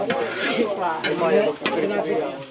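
Chicken frying in a pan at a festive birthday gathering in Batangas, with close sizzling and the scrape of stirring, while people talk over the cooking.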